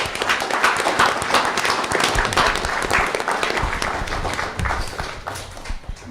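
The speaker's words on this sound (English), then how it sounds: "So let's give them another round of applause." An audience at a county board of education meeting applauds students in steady, dense clapping that stays loud for several seconds, with occasional footsteps and shuffling underneath.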